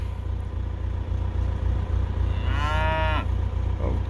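Cattle at feeding time on a farm, with one cow giving a single loud, drawn-out moo and a short call after it, over a steady low engine idle.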